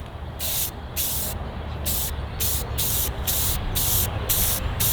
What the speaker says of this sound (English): now we're gonna spray the color shifting color in like really light coats